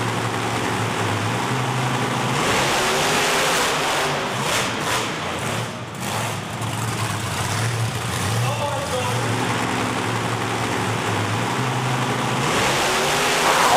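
Two monster trucks, Quad Chaos and Snakebite, race side by side at a Toughest Monster Truck Tour event in Saginaw, Michigan, filling the air with a loud, sustained engine roar that rises and dips slightly throughout.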